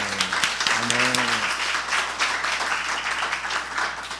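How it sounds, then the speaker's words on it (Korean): A church congregation applauds the song leader after hearing a harmonized hymn, steady, full clapping from a large group that follows a brief voice and carries on evenly to the end. "우리 송인도자에게도 우리 감사의 박수 줍시다."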